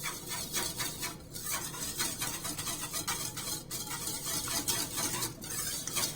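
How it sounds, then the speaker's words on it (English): Pancake batter with melted butter is stirred in a bowl, giving a steady, close, wet mixing swish with rhythmic scraping strokes throughout. "Mix it together."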